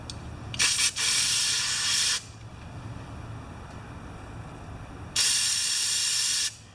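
Spray squirted through holes in a Honda HRB215 lawn mower part, heard as two loud, close hissing bursts of a second or more each, separated by a quieter pause, with no talk.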